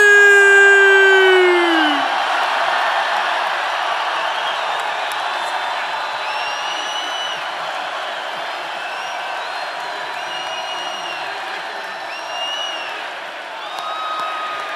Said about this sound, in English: If you want 4 more years of President Trump. Let me hear you scream